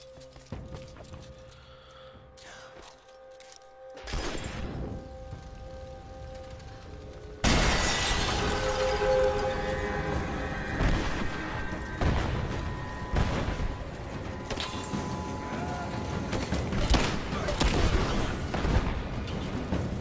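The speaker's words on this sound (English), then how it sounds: "I really wanted to blow that up. I'm gonna do it anyway. I'm getting my explosion." An explosion in the video game Rise of the Tomb Raider: after quiet ambience, a thump hits at about four seconds and a heavy blast lands near seven and a half seconds, followed by sustained rumbling debris and crackle to the end.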